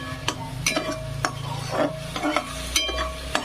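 Chopped onion fries in a pan with a steady close sizzle while a spoon stirs and scrapes through it in quick, repeated strokes.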